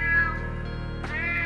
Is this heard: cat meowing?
yes